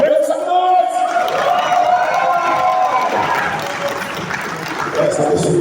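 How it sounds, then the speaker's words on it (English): An audience at a real estate conference in Lagos applauds steadily, a dense wash of clapping and crowd noise that holds for the whole stretch while a voice talks over it. "Please, with a resounding applause"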